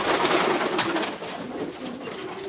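Racing pigeons coo inside a loft, soft throaty calls blending into a steady rustling background hiss, fairly close and continuous with no speech.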